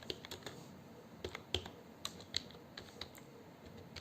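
Typing on a computer keyboard comes as a run of light, fairly quiet keystrokes at an uneven pace, close and alone over a faint steady background hum.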